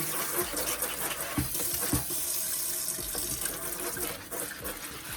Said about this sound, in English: I make sure that my water is about room temperature, and then I spray the plant down.